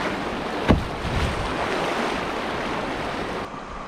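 Large flooded river in northern wilderness rushing past in a broad, steady roar with wind buffeting the microphone and one brief thump.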